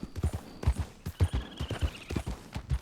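Horse hooves clip-clopping in the video game Red Dead Online, a close, uneven run of heavy thuds at a trotting pace, with a faint whinny-like tone partway through and no talk.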